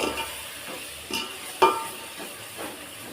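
Yogurt being stirred into biryani masala in a pan, soft sizzling underneath with a few distinct scraping strokes of a spoon against the pan, close and fairly quiet, no talking.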